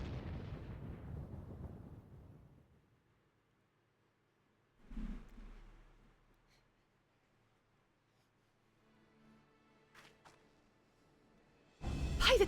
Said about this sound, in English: It must have been the cannon in the Castrum Urbania.